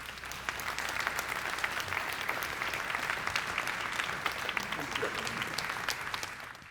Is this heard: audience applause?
yes